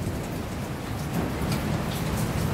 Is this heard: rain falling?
yes